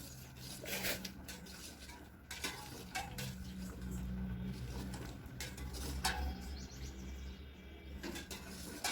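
Sugar syrup for paneer gulab jamun being stirred in a pan, a steady close scraping of the spoon against the metal with light clinks over a continuous bubbling hiss.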